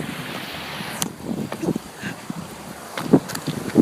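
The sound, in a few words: strong wind near a waterfall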